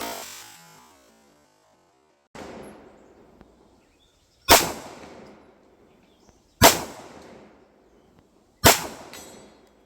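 A Fusion XF PRO pistol fires at a 100-yard target: four loud, sharp shots spaced about two seconds apart, each trailing off in a ringing echo outdoors, after a fading opening report.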